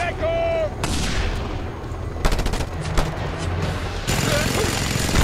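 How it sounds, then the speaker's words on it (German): Gunfire in the video game Just Cause 2, loud bursts and repeated shots over a dense game soundscape of rumbling effects, with sharp impacts near the middle of the stretch. "er hat gerade zum ersten Mal einen Schuss abgefeuert."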